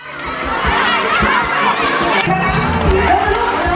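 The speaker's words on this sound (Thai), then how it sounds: "กองเชียร์เยอะมากครับ ยืนเชียร์กันเต็มหน้าเวที" A crowd cheering at a khanom chin (Thai rice noodle) eating contest: dense shouting and chatter packed in front of a stage, with children's voices among it, sustained and fairly loud.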